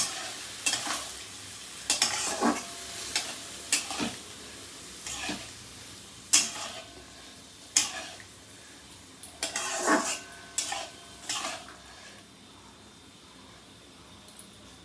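Mashed Malabar spinach shoots with spices, cooked with prawns, stirred in a pan, irregular scraping and clattering strokes of a spatula over a faint sizzle, close and with no speech.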